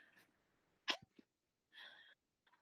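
A single sharp sneeze bursts out, followed by quiet breathy sounds and a short exhale against near silence.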